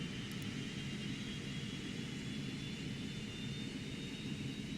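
Cessna Citation Mustang jet engines running in a flight simulator, a steady broadband roar with a faint high whine held evenly throughout, no voices.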